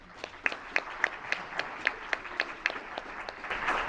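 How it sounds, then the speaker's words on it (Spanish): At a panel event, an audience gives Leopoldo Maldonado a short round of applause, with a few distinct, rhythmic individual claps standing out over softer scattered clapping and crowd murmur. "También un aplauso para él, por favor."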